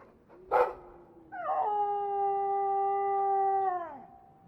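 A dog howls in the video game Dragon Age 2, a long, sustained mournful wail that holds steady for a couple of seconds and then drops off, preceded by a brief sharp yelp, loud and close.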